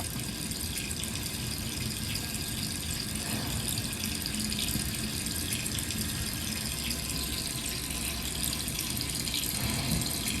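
Steady running water from the video game Resident Evil, a continuous dense hiss and splash that stays even and fairly loud throughout, with no voices.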